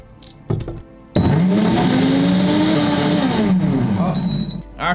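A blender runs at high power to crush a whole pineapple for juice, giving a loud, steady motor roar that starts abruptly after a couple of brief bumps and then winds down near the end.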